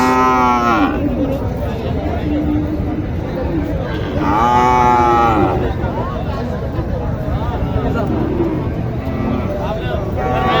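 Crossbred cows low repeatedly at a busy Joypurhat cattle market, several drawn-out moos rising over steady crowd chatter, with people talking nearby throughout.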